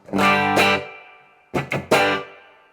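An electric guitar runs through a Valeton GP-5 with plate reverb: a strummed chord rings out and decays, then a few sharp chord stabs follow, each with a shimmering reverb tail.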